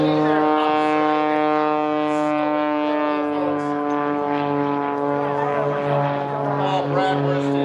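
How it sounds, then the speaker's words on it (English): An MX2 aerobatic propeller airplane performs at the Boundary Bay Airshow 2025, its engine droning loud and steady with a rich harmonic buzz that shifts slightly in pitch as it maneuvers overhead. "It's going to flip the airplane over its nose again."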